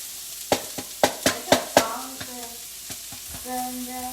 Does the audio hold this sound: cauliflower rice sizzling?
yes